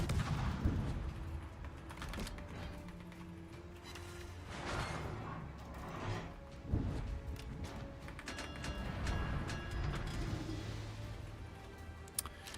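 Naval guns from warships in World of Warships thunder in repeated heavy salvos, dense overlapping booms and rumbling blasts filling the scene at steady loudness throughout.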